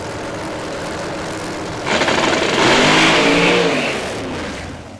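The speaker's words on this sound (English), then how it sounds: "Have a listen to the gear changes if he gets through them all." The Kraken drag car on 275 radial tyres launches hard from a steady supercharged idle and roars up through its gear changes, loud and close, with the engine note climbing and breaking between shifts.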